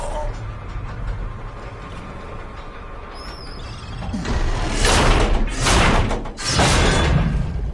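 In the video game God of War (2018), a bridge mechanism's axle is pushed back into place, giving a heavy grinding, sliding rumble that swells midway and carries on in rough bursts.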